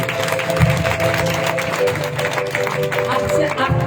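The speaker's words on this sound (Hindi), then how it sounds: "चलो ताली बजाओ परमेश्वर को।" Church congregation clapping during worship, a steady wash of many hands under voices and sustained musical tones.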